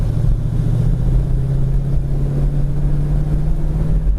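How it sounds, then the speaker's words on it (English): A 1971 Ford Mustang Mach 1 idles in gear at about 800 RPM, giving a loud, steady, low rumbling drone that holds evenly throughout with no one talking. "Car idles down nice, about 800 RPMs where it's idling now in gear."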